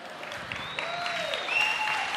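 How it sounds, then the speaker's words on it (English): Recorded clapping plays over a sound system at a youth fest worship event, a steady wash of applause with a few sustained tones drifting above it. "the sound system knows how to clap."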